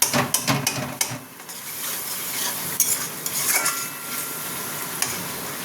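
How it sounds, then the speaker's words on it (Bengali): Tomatoes, raw melon and prawns sauté in a pan with a steady sizzle, while a spoon scrapes and clinks against the metal in irregular strokes close by. "টমেটো দিয়ে এটাকে একটু কষবো, এটাকে ভালো মতন কষিয়ে নেবো"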